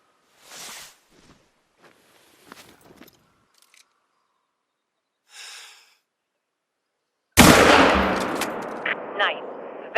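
A single loud gunshot from theHunter: Call of the Wild cracks out after a stretch of near silence and a few faint, scattered noises, then rings off in a long, echoing tail.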